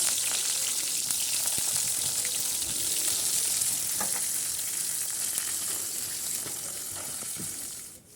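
Leaves for chepa puli frying in a little oil in a pan, a soft continuous sizzle with faint crackles and occasional scrapes that fades out at the end.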